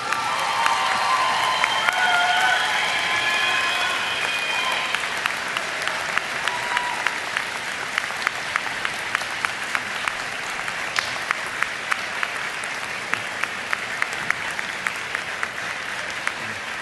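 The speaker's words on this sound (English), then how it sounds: "to give them the round of applause that they deserve" A graduation convocation audience applauds in a large hall, a sustained wash of many hands clapping that thins toward the end into scattered individual claps, with faint murmuring and a few whoops early on.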